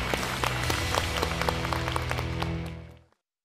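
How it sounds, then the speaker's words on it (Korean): A studio audience at a lecture taping applauds, dense sustained clapping at close range that cuts off sharply after about three seconds. "박수를 부탁드립니다."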